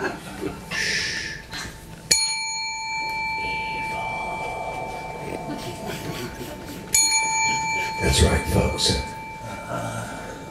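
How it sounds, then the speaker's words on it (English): A hotel desk clerk bell rung twice, each a bright, sharp ding with a long ringing decay, the strikes several seconds apart, heard close amid crowd noise and talking. "Hotel desk clerk bell when you showed up after the gig"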